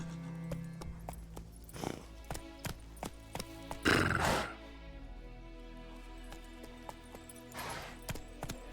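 Roach, Geralt's horse in The Witcher 3, neighs in a loud whinnying burst midway, with softer snorts and sharp, regular hoof clip-clops ticking throughout.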